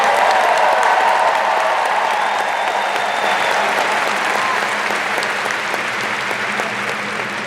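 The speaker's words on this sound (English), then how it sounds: "Can we give our cast a round of applause?" Audience applause for the cast at a Disney Experiences showcase, a dense, steady wash of clapping from a large crowd that holds throughout and tapers only slightly toward the end.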